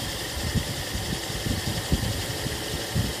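A Toyota Kijang Krista engine with power steering idles at about 700 RPM during tuning, giving a steady, dense mechanical hum with faint rhythmic low thumps and a slight rattle, heard without voices.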